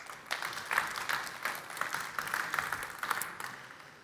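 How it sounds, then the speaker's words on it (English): Faint, distant applause from a trade-fair audience follows a presentation at Formnext, a steady patter of scattered clapping that holds at low volume for about four seconds. "please, an applause."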